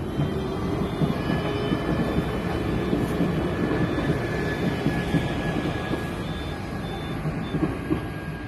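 A train passes in Hamasen, Kaohsiung, its steady moderate rumble rolling on without a break, with no talking over it.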